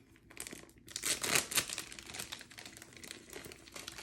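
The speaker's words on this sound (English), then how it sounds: "Next up, let's open this accessories packet." Crinkly plastic packaging of a US MRE ration accessories packet is torn open up close, a burst of ripping and crackling followed by softer rustling as the wrapper is handled.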